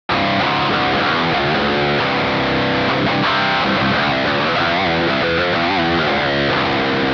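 A heavily distorted electric guitar plays a winding, exotic-sounding Phrygian dominant riff with bending melodic lines, loud and continuous throughout.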